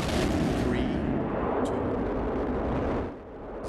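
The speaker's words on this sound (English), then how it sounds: "Go for main engine start." Space Shuttle Endeavour's main engines ignite during the STS-134 launch, producing a loud, steady, crackling roar that dominates throughout before dipping slightly at the end.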